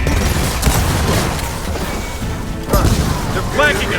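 A frag grenade goes off in a Gears of War firefight as a loud, heavy burst amid dense ongoing gunfire and combat noise, with game dialogue shouted over the din.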